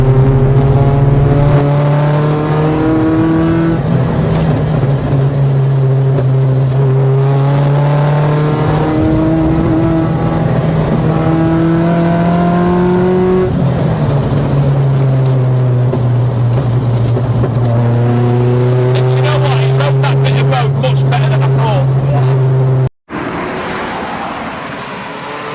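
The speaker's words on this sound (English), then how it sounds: "The thing you get with the ITB is just instant. There's no lag on it. The throttle response." A one-off mk2 Golf GTI engine with individual throttle bodies and cable throttle revving hard, loud rising and falling blips and sustained revs close by, cut off abruptly near the end.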